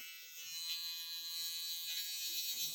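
An electric foil shaver hums steadily at close range, a continuous bright buzzing drone that holds level for a few seconds before its tone shifts slightly near the end, with no voices.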